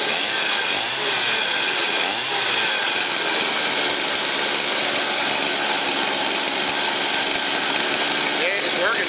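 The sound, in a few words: 26cc mosquito scooter engine starting and idling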